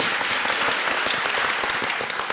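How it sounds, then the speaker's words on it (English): Group of people at a talk-show discussion clapping together, a loud, dense stretch of many overlapping hand claps lasting a couple of seconds without speech. "So, yes, clap"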